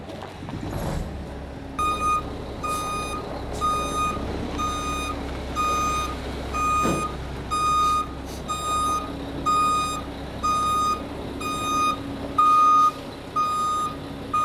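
Truck reversing at the Kent Recycling Center, its backup alarm sounding repeated evenly spaced high beeps over a low engine rumble, with a brief clunk near the start.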